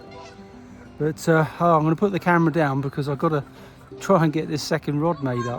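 Geese honk loudly and excitedly near a fishing spot, their calls overlapping with someone talking close to the microphone.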